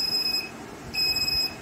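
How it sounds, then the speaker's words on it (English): A homemade Arduino Nano medicine reminder sounds its electronic alarm: two high, thin beeps, each lasting about half a second, with a gap between them over a faint background hum. "You can hear the beep sound."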